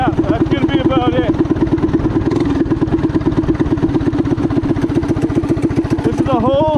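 A revving engine pulses in fast, steady firing beats as the torque converter engages at a lower RPM, loud and close throughout with rising tonal sweeps at the start and end.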